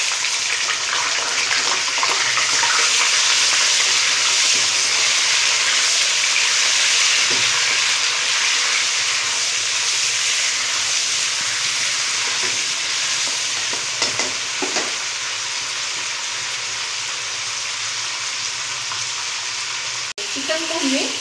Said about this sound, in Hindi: चिकन को हमें इस तरह का क्रिस्पी सा बनाना है, जैसे हमें इसको अच्छे तरीके से फ्राई करना है